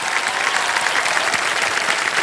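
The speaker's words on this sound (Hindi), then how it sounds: "एक बार जोरदार तालियां बज जाएं।" Studio audience of a TV quiz show (KBC Season 16) bursting into loud, dense applause that holds steady and unbroken throughout, with no talk over it.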